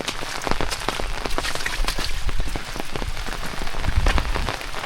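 Heavy rain pours steadily over a village in the Konkan countryside, a dense, continuous hiss of drops striking surfaces close by, with no voices.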